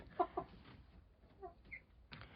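Faint, soft clucking of young chickens, a few short calls spread over a quiet background.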